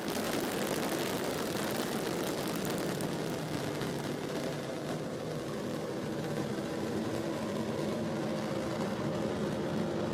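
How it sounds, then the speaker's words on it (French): An Ariane 5 ECA rocket lifts off as its solid boosters ignite, a dense, continuous broadband roar that stays loud and steady throughout, heard from a distance. "Allumage des EAP décollage."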